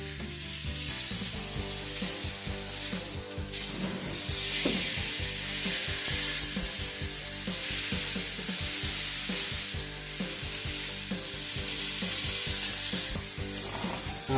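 Wagyu burgers and a cowboy steak sizzle loudly and steadily on a grill, a dense continuous hiss with scattered pops and crackles running the whole time, no voices.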